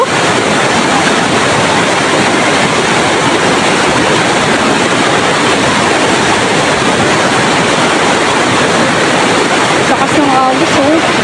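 A strong rushing river current near a bridge fills the clip with a loud, unbroken roar of churning water, heard up close from start to finish.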